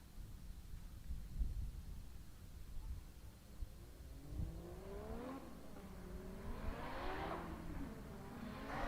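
A drift car runs at Raceway Park during a drifting competition. Its engine revs and rises in pitch with tire squeal toward the end, set against steady crowd and track ambience.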